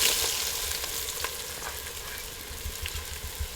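Muthiya dumplings frying in hot oil with a tempering in a village farm kitchen, a close steady sizzle with small crackles and spatters, a little louder at the start, no talking.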